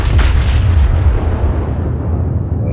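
Deep, rumbling booms of warship main-battery guns firing armor-piercing shells in World of Warships, one heavy low roar that sustains and fades with no talk over it.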